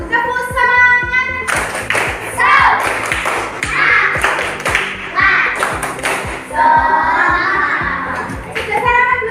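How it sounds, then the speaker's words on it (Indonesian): Schoolchildren perform a rhythmic 'tepuk semangat' clapping cheer at a school competition morning: quick patterned claps and taps, loud and close, with children's voices chanting along throughout. "Tepuk semangat"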